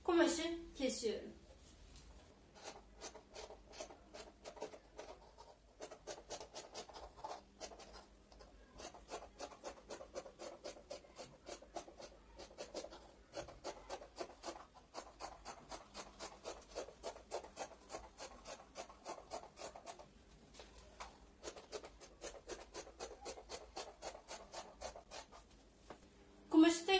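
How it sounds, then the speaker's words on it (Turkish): Scissors cutting fabric along a drawn line with a one-centimetre seam allowance, a quiet, rapid series of crisp snipping and rasping strokes repeating steadily on a table, with a louder bump at the start and end. "çevreye birer santim dikiş payı vererek kumaşı kesiyorum."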